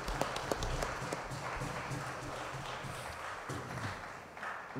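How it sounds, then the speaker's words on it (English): An audience at a Christmas service of Nine Lessons and Carols applauds the choir singers: sustained, moderately loud clapping with a few sharp, distinct claps near the start and a low murmur of voices beneath. "I ask you to put your hands together for all our performers, those who sang in the choirs."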